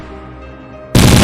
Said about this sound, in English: Gunfire cracked through the trees.